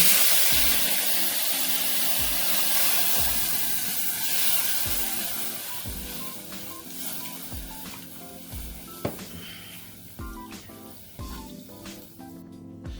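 Milk poured into a hot pan for sheer khurma hisses and sizzles loudly at first, then settles into softer bubbling. Scattered clinks of a utensil sound against the pan, with no talk.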